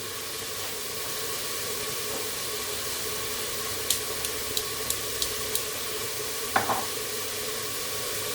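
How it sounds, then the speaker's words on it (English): Vegetables for a tomato and cabbage minestrone frying in a pan, giving a steady close sizzle throughout with a few light utensil clicks and taps near the end. "So we'll let that soften up and fry off a little bit for maybe 3 minutes or so"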